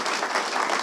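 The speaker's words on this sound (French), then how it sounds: "On peut les applaudir chaleureusement." Audience applause at a regional biodiversity awards ceremony, a dense, steady clapping that fills the whole moment with no voices over it.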